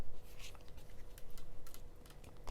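Tarot cards being shuffled by hand, a soft papery riffle and patter of card edges with brief crisp flicks, close and fairly quiet, with no talk over it.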